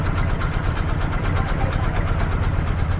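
A trawler's engine drones on the Padma river, a loud, close, continuous low rumble with an even throb and no pauses.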